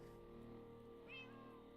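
A Minecraft cat lets out a single short meow with a rising, whiny pitch. It is quiet and sits over a steady game background hum.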